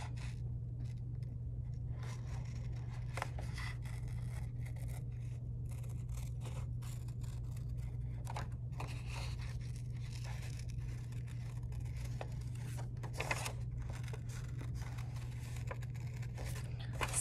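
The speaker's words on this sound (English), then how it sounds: "using scissors and cutting out art projects" Scissors cutting out a paper art project, faint slow snips and light paper rustles spaced unevenly over a low steady hum, quiet and close.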